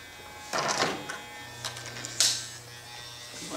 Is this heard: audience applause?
no